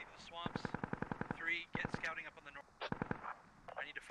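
Rapid bursts of machine gun fire in a tactical military shooter, a fast regular string of sharp shots followed by a couple of shorter bursts, loud and close with some overlapping chatter.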